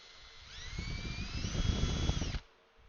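A power drill bores a dowel pin hole into wood, its motor whining and rising in pitch as the bit bites, with rough grinding texture for about two seconds before it cuts off.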